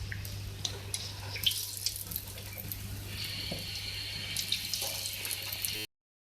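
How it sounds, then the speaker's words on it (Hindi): Chicken, vegetable and cheese cutlets go one by one into hot oil and fry, giving a steady sizzling hiss with a few light clicks before it cuts off abruptly. "तो अब इस ऑयल में हम ऐड करेंगे एक एक करके अपने कटलेट्स।"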